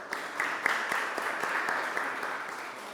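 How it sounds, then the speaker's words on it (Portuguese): An audience claps during an ordinary municipal council session, a steady burst of many hands with sharp individual claps standing out, moderately loud and continuing for several seconds. "peço uma salva de palmas à vereadora também."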